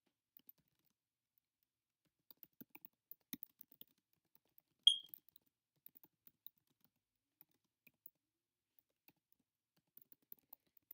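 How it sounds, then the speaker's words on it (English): Someone types on a computer keyboard, producing sparse, irregular, faint key clicks with one slightly louder tap, in near silence with no talking. "I'm just going to put welcome to Ashley's. I can't type."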